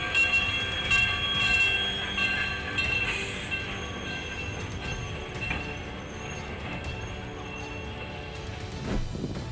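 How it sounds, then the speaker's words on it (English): Miniature one-third scale locomotive running on a small railway, a steady rolling clatter of wheels on track with faint metallic squeals, close and continuous, no voices. "this railway is famous for its 1/3 scale steam and diesel locomotives"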